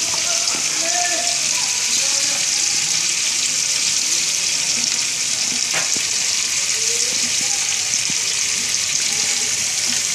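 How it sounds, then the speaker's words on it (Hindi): Chicken pieces fry in a pan with a loud, continuous sizzle that holds steady throughout, broken by a few faint clinks of a utensil, with some speech under it. "एक तरफ से जब ये फ्राई हो जाएंगे फिर हम इसको 3 से 4 मिनट जो है दूसरी तरफ से फ्राई करेंगे।"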